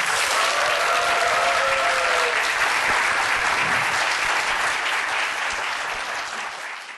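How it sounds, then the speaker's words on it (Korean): An audience at a Korean startup lecture event applauds steadily, a dense wash of many hands clapping that tapers off slightly toward the end. "박수 한번 주세요"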